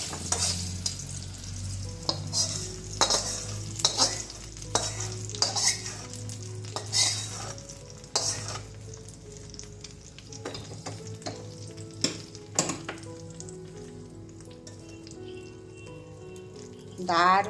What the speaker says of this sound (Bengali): শেষে কারি পাতা শুকনো লঙ্কা গরম তেলের মধ্যে দেওয়া হয়ে গেল